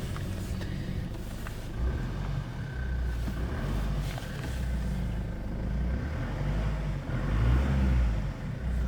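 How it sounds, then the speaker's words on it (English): The diesel engine of a stock Jeep Liberty CRD idles at about 1750 rpm, heard from inside the cabin as a steady, even low rumble that swells slightly near the end. "It seems to be idling pretty regularly right there at 1750, just consistently."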